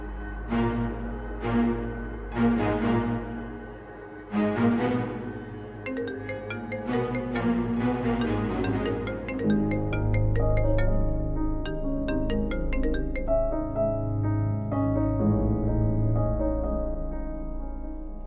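Phone ringing on and on with no one picking up, in a drama scene: repeated tonal ring bursts carry over a steady low background hum and music throughout.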